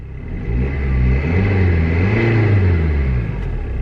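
A BMW car engine, just restarted after failing to start, idles and revs up steadily, a low rumbling drone rising and falling slightly, close by with no talking.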